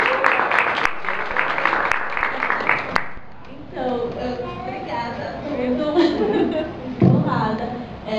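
An audience at a film awards ceremony claps steadily for a few seconds, then the applause fades and a voice speaks over light background noise.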